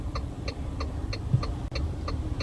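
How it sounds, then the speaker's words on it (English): Turn signal indicator of a Haval H9 ticks inside the cabin in a steady, evenly spaced clicking rhythm, close and clear over a low engine hum, with no talking. "Quite a loud indicator stalk"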